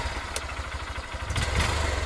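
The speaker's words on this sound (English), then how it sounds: "This is the sound of a motorcycle." A motorcycle engine runs steadily nearby, a low pulsing idle with a faint clatter and a slight rise in revs toward the end.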